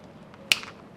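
A single crisp finger snap cracks sharply once, close and distinct, against a quiet, faintly noisy background.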